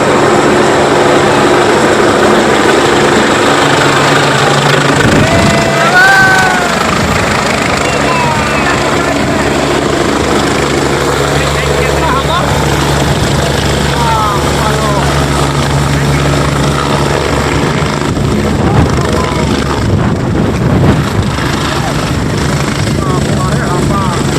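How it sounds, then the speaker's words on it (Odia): Helicopter coming in to land at an election rally, a loud continuous rotor and engine roar filling the scene, with crowd voices mixed in. "ଦେଖନ୍ତୁ ବର୍ତ୍ତମାନ ହେଲିକପ୍ଟର କେମିତି ଅବତରଣ କରୁଛି।"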